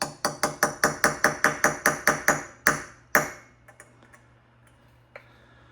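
A hammer taps a pin punch, seating a pin in a 1980-84 John Deere Liquifire carburetor: a rapid run of about a dozen sharp, evenly spaced metallic taps, then two heavier strikes and a few faint clinks before it goes quiet.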